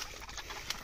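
Pigeon cooing near a bird trap set outdoors, a soft low coo heard alone against a steady hiss of background noise.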